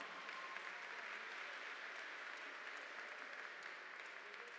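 Steady, uniform applause fills the hall at Harris-Stowe State University's 2021 spring commencement as the crowd honors standing faculty, staff and alumni, somewhat distant and unbroken throughout.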